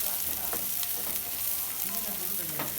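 Finely chopped onions frying in hot oil in a pan for a paneer gravy, giving a steady, close sizzle with occasional stirring scrapes throughout.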